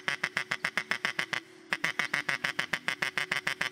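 A hand-shaken duck call lure imitating contented duck chatter: rapid rhythmic quacking bursts repeating steadily, close and fairly loud, with a short pause midway before the chatter resumes.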